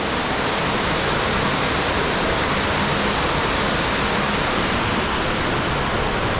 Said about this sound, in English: Gorgeous waterfall going down.